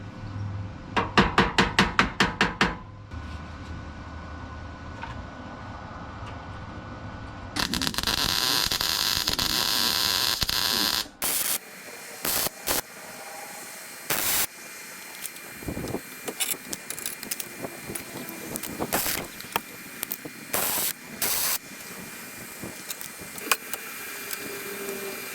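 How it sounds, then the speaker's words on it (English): Bursts of welding on an Alfa Romeo GTV 105 body panel crackle and hiss near by: a rapid rattling run, a long sustained buzz, then many short irregular welding zaps separated by brief pauses. "And then again I shall weld across here and down here."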